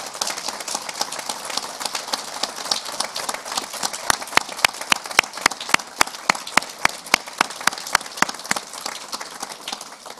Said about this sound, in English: give them a round of applause for all the support you received on the way